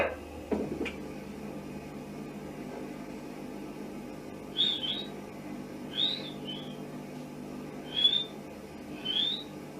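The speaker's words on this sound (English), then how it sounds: "You'll hear the whistling first of all, and then the barking" After a sharp click, four short rising whistles sound at spaced intervals, thin and bird-like, heard faintly on a recording with quiet background.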